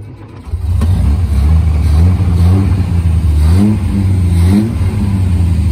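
Engine of a 1960 Austin Healey 3000 MK1 BN7 cranking and catching, then settling into a loud, close rumble broken by several rising revs before easing back to idle.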